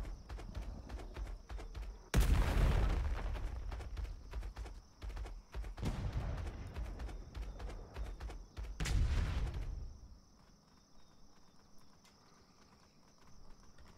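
Gunshots fired at the player in the Atlas pirate game, a few loud heavy booming blasts spaced several seconds apart, each with a rumbling tail over quiet ambient background.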